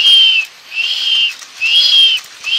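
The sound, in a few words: toy game whistling as it rolls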